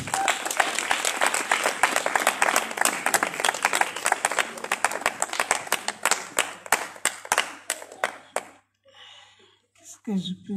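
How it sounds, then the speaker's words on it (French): A small gathering at a 21-year wedding vow renewal claps loudly and steadily, the rhythmic applause thinning out and fading into brief silence, then a voice starts to speak. "Nous acclamons très fort."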